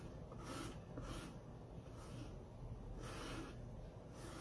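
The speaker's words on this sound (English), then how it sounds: "use my squeegee to pull the paste over the transfer and through the silk screen" A squeegee drags paste over a silk screen transfer in repeated rasping strokes, faint and close, each pass a soft scraping swish at a steady, unhurried rhythm.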